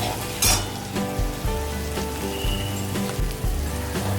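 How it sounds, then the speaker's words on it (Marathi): Spices hit fried onion and tomato in a pan for dal khichadi: a steady close sizzle broken by repeated rhythmic stirring scrapes, loud and alone. "कांदा टोमॅटो हे सगळं आपलं छान असं परतून झालेलं आहे आता याच्यामध्ये आपण मसाले घालूया"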